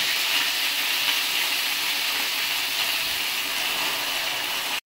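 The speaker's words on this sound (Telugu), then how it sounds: "నూనె వేడైందండి, గోంగూర వేయించుకుందామండి." Gongura sorrel leaves frying in hot oil in a pan give a loud, steady, close sizzle with an even hiss throughout that cuts off abruptly at the end.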